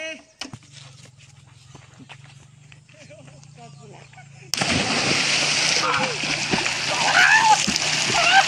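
People splashing in water as they wade in, quiet at first, then a sudden loud surge of continuous splashing and churning water, close, with voices calling and chatting over it.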